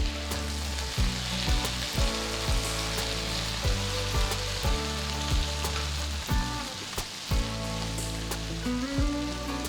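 Golden-brown onions and chopped tomato pieces frying in a pan for chicken fry, a steady close sizzle with a series of sharp clacks from stirring, and no speech.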